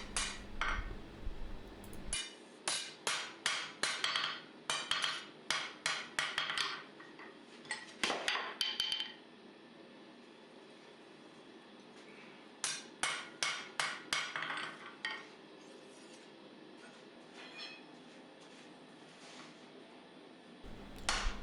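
Hammer blows on hot steel against an anvil face with water between, forging an integral knife from round stock: clustered bursts of sharp, ringing metallic strikes in fast volleys, separated by pauses, loud and close.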